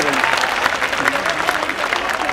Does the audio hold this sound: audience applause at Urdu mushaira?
yes